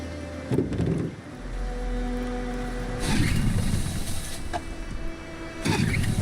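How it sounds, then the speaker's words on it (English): A boat engine in Detroit: Become Human sputters and turns over in bursts, cranking attempts repeating every couple of seconds with a low mechanical rumble between them, close and fairly loud, with no talk. "Let's get that engine going."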